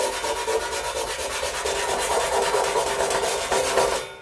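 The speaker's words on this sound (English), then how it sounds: "I'm going to sand this back" Sanding rust off the metal casing of an Akai AM-U04 amplifier, a steady rasping scrape with rhythmic back-and-forth strokes, loud and close throughout, no voices.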